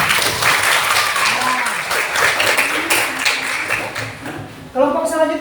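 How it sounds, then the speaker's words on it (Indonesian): A classroom gives applause after a group presentation, a sustained dense clapping from the class with voices audible underneath, ending as a person begins speaking clearly over the last claps. "Tepuk tangan untuk Melty."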